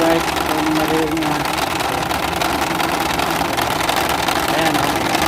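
Engine cooling fan on a running Nissan Pathfinder, a loud continuous whirring drone over the idling engine, with someone talking over it.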